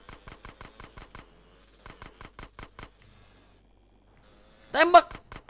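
Bursts of rapid gunfire in a GTA chase, two quick volleys of sharp evenly spaced shots, then a pause before a loud excited voice breaks in at the end.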